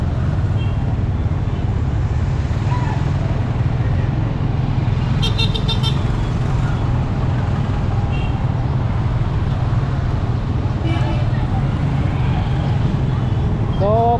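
Busy main road in a commercial area of Davao, Philippines, with motor tricycles and traffic running continuously and close by, and a few short horn toots rising over the steady engine rumble.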